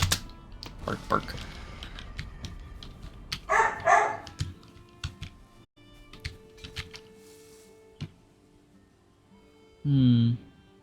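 A dog barks in the video game Valheim: a short burst midway and another near the end, set among scattered game clicks and thuds, with voices talking at times.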